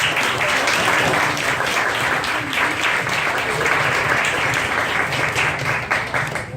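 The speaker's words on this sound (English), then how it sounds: "So a round of applause for you guys also for coming out today" Dinner guests applaud steadily and loudly throughout, a dense wash of many hands clapping at close range with no talk over it, tapering slightly at the very end.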